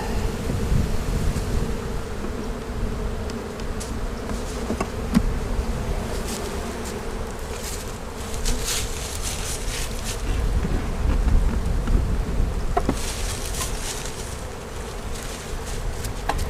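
Honeybees swarm around an open hive during queen grafting, a dense, steady buzz filling the whole stretch, with occasional louder passes as bees fly near and faint knocks of equipment.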